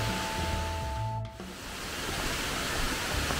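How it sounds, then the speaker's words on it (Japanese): Loud rushing water from a waterfall fills the whole clip as a dense, steady roar, with a faint tonal hum in the first second or so. "なんかすごい水の音がするんですけど"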